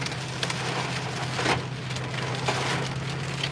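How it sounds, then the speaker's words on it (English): Heavy storm rain pouring down steadily in Arkansas after lightning and a brief spell of hail, a dense wash of drumming close by with scattered louder splatters and a low steady hum underneath. "Now it's raining like a mother."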